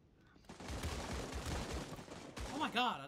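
Fast volleys of gunfire in Fortnite, dense and continuous, then a short voice over the shots near the end.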